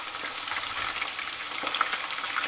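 Eggplant slices for Pasta alla Norma sizzle in hot frying oil as they are stirred, a steady crackling hiss with small pops, close and moderately quiet, no voices.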